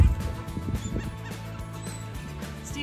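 Birds on a Florida beach honk and cluck in a burst of close, overlapping calls, loud at first and then settling into a quieter, irregular chatter over about three seconds.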